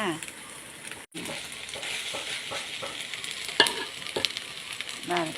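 Eggs fry in a pan, with tomatoes also mentioned, giving a steady, close, broadband sizzle. Scattered crackles and spatula scrapes run through it, with a momentary dropout early on.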